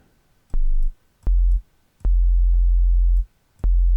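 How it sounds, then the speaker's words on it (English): A low pure sine tone from the free Vital synthesizer plays in four separate sustained notes of differing lengths, each starting with a click, with short silences between them. "Here I have Vital, which is a free synthesizer, and we're going to be using a sine wave."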